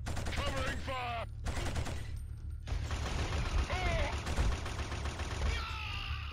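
Automatic gunfire in a Killzone HD firefight crackles in dense bursts, with a short pause and weapon mechanics clattering between volleys, loud and close, while shouted voices sound over the battle.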